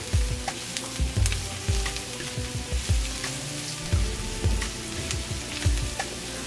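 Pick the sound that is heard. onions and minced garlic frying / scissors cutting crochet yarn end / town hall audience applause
onions and minced garlic frying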